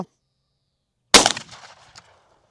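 A single sharp, loud shotgun blast of an Italian cartridge without a wad container, fired outdoors at about 20 metres, followed by a brief decaying echo after a moment of silence.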